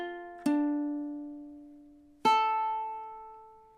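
Two ukulele strums of measure 5 from a song, each a bright plucked chord left ringing and slowly fading, with a pause of almost two seconds between them, played solo and close.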